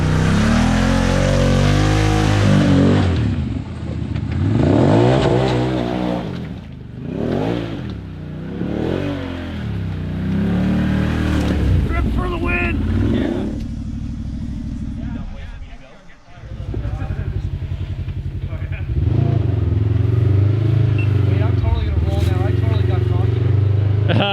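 Kawasaki Teryx side-by-side UTV crawling over cold, wet trail rocks, its engine surging and revving in repeated bursts, then settling into a steady drone, with people talking throughout.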